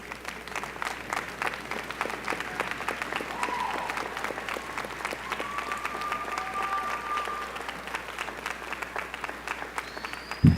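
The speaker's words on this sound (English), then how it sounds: "graduates, you can recognize your family members with a round of applause" A graduation crowd claps for family members at a university business school commencement, a steady, moderately loud wash of applause in a large hall, with a brief thump at the very end.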